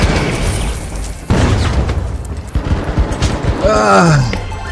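A frag grenade thrown in the shooter game The Finals, set against a loud, chaotic battle: a sharp thump and burst amid ongoing gunfire and blasts, with a descending whistling tone near the end.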